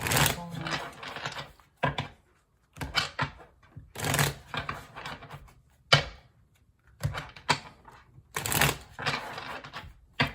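Tarot cards being shuffled in repeated riffling bursts separated by short pauses, close and fairly loud, with crisp papery flutters.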